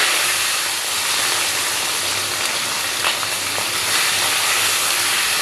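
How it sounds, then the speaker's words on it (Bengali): Singi fish fry in hot oil in a kadai for a light fish curry, producing a loud, continuous close-up hiss and crackle with no voices. "মাছগুলোকে আমি ভেজে নিচ্ছি।"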